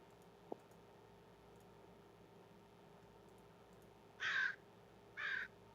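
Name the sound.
bird calling outside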